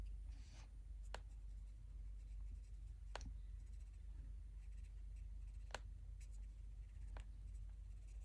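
Quiet scratching of colouring pencils on a colouring book, with a few sharp, isolated clicks from the book spaced a second or two apart over soft, steady rubbing.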